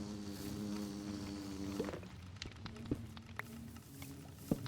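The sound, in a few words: diamond bees buzzing in a modded Minecraft game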